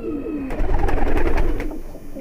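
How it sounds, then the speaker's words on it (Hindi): Rampuri taukiya pigeons coo close by in a short, throaty burst that swells and then fades, alone without talk. "ये अपनी क्या बोलते हैं, रामपुरी जो होते हैं तौकिया कबूतर"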